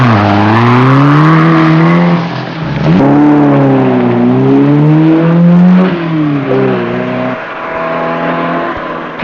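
A 1974 Lebanon Syria Rally car races by close and loud, its engine and exhaust holding a steady high drone that rises and falls with gear changes and revs, with a brief dip near the start.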